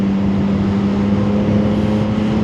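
A stock CFMOTO 675SS motorcycle engine running, a loud steady droning hum with a strong low tone, close and continuous without talk.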